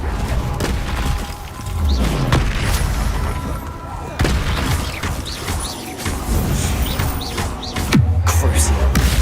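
Magical Depulso and Confringo spell blasts land as a string of heavy booms and crackling impacts, roughly four big hits spread over a constant busy rumble of combat noise.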